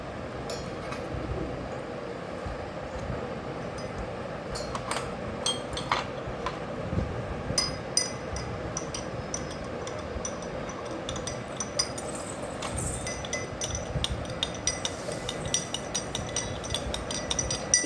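A spoon stirs lemonade with salt, pepper and cumin powder in a glass, giving steady, close clinks and scrapes against the glass over a low background hum.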